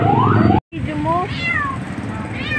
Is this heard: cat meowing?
yes